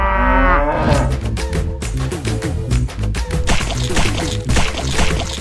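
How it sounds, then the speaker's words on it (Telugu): Four buffaloes in a shed, one giving a loud, drawn-out moo close by, followed by rustling and shuffling movement with irregular thumps and knocks. "ఒరే మను, ఏంటమ్మా గేదెలు పేడేసేసారా?"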